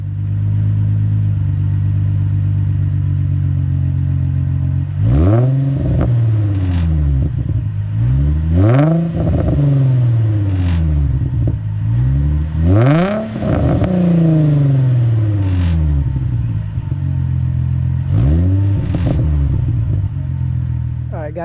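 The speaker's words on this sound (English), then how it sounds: "that's what the Z1 exhaust sounds like" Infiniti G35 coupe with a full Z1 exhaust revving up close, loud and sustained, with repeated partial revs rising and falling over a steady idle, alongside occasional talk.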